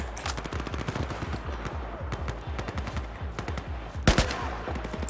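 Rapid automatic gunfire crackles in the video game Battlefield 4, with repeated bursts and a sharper, louder shot near the end, heard close without talking.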